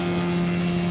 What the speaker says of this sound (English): Another large aeroplane.